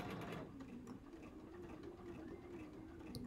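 A sewing machine runs steadily and slowly, stitching quilt pieces for a basket puzzle quilt block, its motor hum continuous and close with no pauses.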